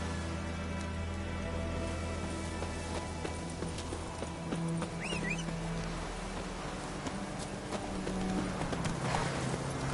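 Hooves clip-clop at a steady rhythmic pace as a horse travels in the video game The Witcher 3: Wild Hunt, set against a constant low ambient hum, with no talking.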